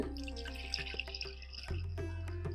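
Water from washed barnyard millet (kuthiraivali rice) drains through a sieve, giving a close, steady trickle with small drips over a low background hum.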